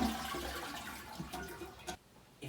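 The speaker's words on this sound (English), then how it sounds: "We're gonna empty the water from the tank." Water drains from a toilet tank being emptied for replacement, a faint gurgling, rushing flow that runs for about two seconds before dropping off abruptly into near silence.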